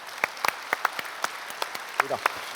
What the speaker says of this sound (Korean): 영광의 박수를 하나님께 한번 드리도록 하겠습니다